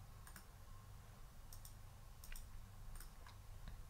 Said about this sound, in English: First of all, this is not easy to click on for some reason.